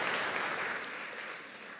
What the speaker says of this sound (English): please give another round of applause for our National Youth Orchestra